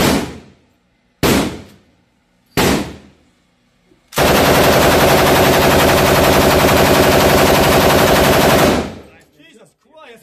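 Gunfire at an outdoor gun range: three sharp single shots spaced apart, then a long sustained burst of rapid automatic fire lasting several seconds, loud and close.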